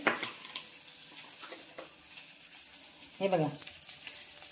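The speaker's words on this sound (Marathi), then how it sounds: "आपली फोडणी तडतडली आहे" Tempering spices in hot oil for a soup, a soft continuous sizzle with a few short spluttering crackles, faint and close, with someone briefly talking over it.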